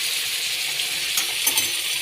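Chhena stirred in a spoonful of ghee in a wok, a steady close hiss of gentle frying with soft scraping and a couple of light utensil clinks, no talking.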